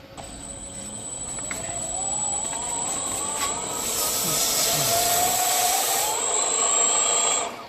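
Lathe-turned metal handwheel being sanded with P600 sandpaper on a Sieg mini lathe, a whining motor with a soft abrasive rubbing that swells and rises in pitch, then stops.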